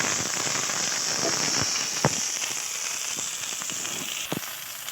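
Okra frying in hot oil in a pan, a steady close sizzle and crackle throughout with a few sharper pops scattered across it.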